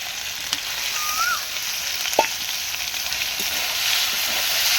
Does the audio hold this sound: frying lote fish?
yes